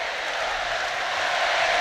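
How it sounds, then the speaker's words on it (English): Dense crowd noise from French spectators packed into the Paris 2024 Olympic athletics stadium, a steady loud wash of massed voices holding level throughout with no clear chant rhythm standing out. "you can hear the chanting from the French crowd"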